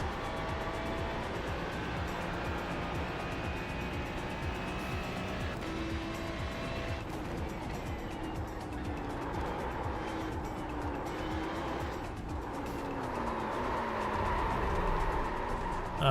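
A Ferrari GT3 race car in a racing video game laps Spa, its engine droning and rising and falling through gear changes, loud and steady, ending in a rising rev.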